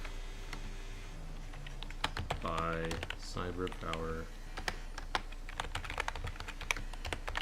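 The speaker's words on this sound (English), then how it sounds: "If you guys enjoy my typing, that is the keyboard that I use for these streams." A CyberPower LED multimedia USB wired gaming keyboard clacks in quick irregular keystrokes, close and crisp, while someone speaks over the typing.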